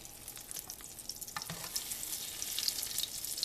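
A veggie omelet topped with cheese sizzles quietly in a frying pan as it is folded and pushed to the center, with soft, continuous crackling and no talking.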